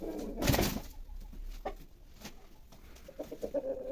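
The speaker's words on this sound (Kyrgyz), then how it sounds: "Тооктордун урушканын көрдүңөр беле ушул?" Chickens fighting in a backyard flock that includes a new rooster: a sudden loud burst of flapping and scuffling, then scattered clucks and soft cooing calls, fairly close and otherwise quiet.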